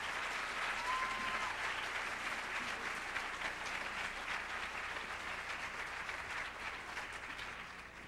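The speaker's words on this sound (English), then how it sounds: "Let's give them another round of applause." An audience at a high school show choir performance applauds the musicians, a dense, steady wash of clapping that holds for several seconds and slowly tapers off.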